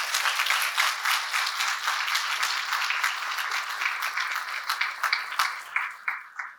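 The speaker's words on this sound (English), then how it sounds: "I'd like you to give them all a round of applause." Audience applause at a 2023 graduation ceremony: a sustained round of dense clapping from a large crowd, steady throughout and thinning slightly toward the end.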